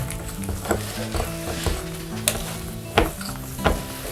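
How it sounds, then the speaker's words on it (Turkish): A spoon stirring a thick healthy paste in a pot, giving soft scraping and occasional clinks against the pot's side at an irregular rhythm, close up, over a low background hum. "Biraz karıştırmaya devam edin"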